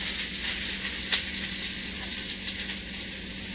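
Garlic and onions sizzle steadily in hot oil in a pan while a chicken teriyaki stir fry is being made, a dense, even hiss held close throughout with one brief sharper crackle.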